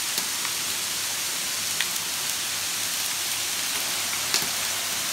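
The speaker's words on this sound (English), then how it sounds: "It's hailing. Ice. Oh, man. There's ice everywhere." Hail falls steadily as a dense, even hiss in a PlayStation VR game, with occasional sharper ticks of ice landing, faint and with no talk.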